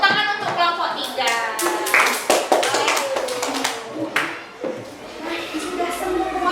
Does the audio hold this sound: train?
no